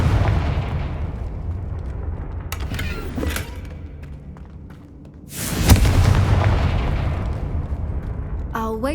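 A Confringo fire spell in Hogwarts Legacy goes off as a sudden loud blast with a crackling, rumbling tail, following creaking ambient game sound.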